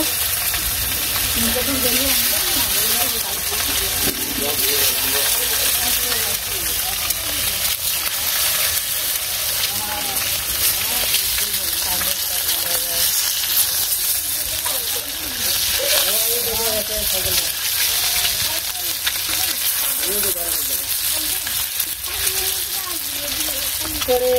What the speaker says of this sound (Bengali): ডিম ভাজার জন্য তেল দিয়ে দিছে